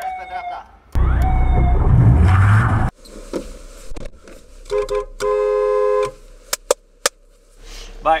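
Police car siren heard in short, loud bursts of wailing and steady tones mixed with engine and car noise, broken by gaps and brief sounds nearby.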